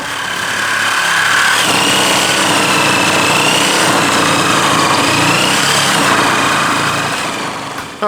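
A Sawzall reciprocating saw cuts through pallet boards and nails outdoors, giving a loud, sustained motor whine that holds steady, shifts pitch slightly as the blade bites, then eases off at the end.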